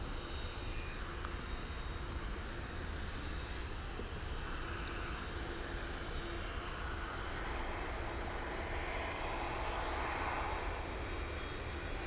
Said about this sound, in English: That, people of Earth, is another MD-11.